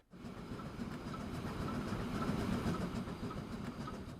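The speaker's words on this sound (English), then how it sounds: "we do have the train coming" A train arrives in the railway simulation game Transport Fever 2, a steady low rumble and rattle of rolling wagons that stays fairly constant and faint, with no talk.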